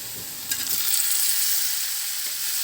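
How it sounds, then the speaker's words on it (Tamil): Onions and tomatoes sautéing in a pan for vathal kuzhambu, a bright continuous sizzle that swells after a brief stir at the start and then holds steady and close, with no talking. "இதை நல்லா வெந்து வரணும், குழஞ்சி வெந்து வரணும், அந்த அளவுக்கு வதக்கிக்குவோம்"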